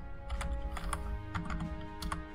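Keys clatter on a computer keyboard in quick uneven bursts of clicks, close and fairly quiet over a faint steady hum, with no talking.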